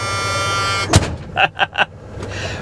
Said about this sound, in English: Even the buzzer works on this truck.